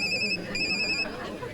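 A telephone rings in bursts of a bright electronic ringtone, two clear pulses close by with faint background chatter.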